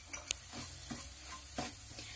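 Meat masala and ground pepper being stirred in a pan for a kakka (clam) dry fry, a few soft scrapes and clicks of the spoon over a faint low sizzle, quiet and close.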